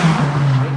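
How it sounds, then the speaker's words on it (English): Race cars at the Bang Saen Grand Prix street circuit in Thailand roar past close by, a loud, steady engine drone with a falling pitch, echoing off nearby glass. "The cars are pretty loud up here with the glass being right there."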